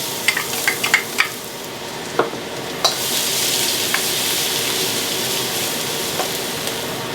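Four garlic cloves drop into a smoking-hot wok with a few sharp clinks, then a bright, steady sizzle of frying rises and holds, with occasional stirring taps over it.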